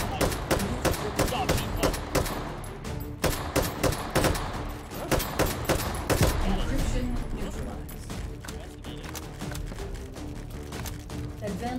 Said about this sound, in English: I'm gonna get shot by the entire firing squad over here.